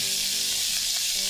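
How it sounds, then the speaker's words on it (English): Wet jalapenos sautéing in hot grease sizzle loudly and steadily at close range, a continuous hiss with faint stirring beneath. "And because these are wet, that's why it's really sizzling up."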